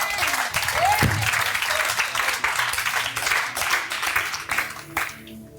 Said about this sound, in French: Acclame ça. Acclame ça.